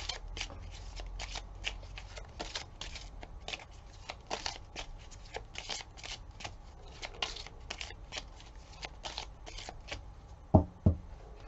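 A deck of tarot-style cards shuffled by hand for a daily reading, a rapid rhythmic riffle of flicks and slaps repeated close up for over ten seconds, ending in a couple of sharper taps as the deck is squared.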